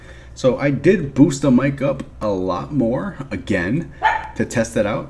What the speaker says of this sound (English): I bet you can hear my dog barking right now